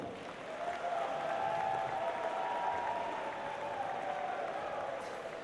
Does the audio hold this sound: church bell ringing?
no